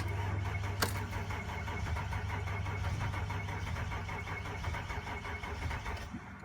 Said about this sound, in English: it's so cold the van doesn't really want to start